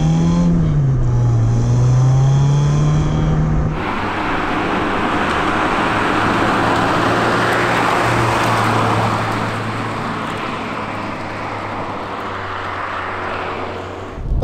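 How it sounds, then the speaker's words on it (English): A Renault Clio Williams 2 hot hatch engine, heard as its real unpiped sound, gives a brief whine before settling into a loud, sustained roar as the car accelerates, with strong road and wind noise and no talking. "it's a decent, good, roary noise, which, of course, in the GR Yaris is sort of piped into the cabin, whereas this is the real noise."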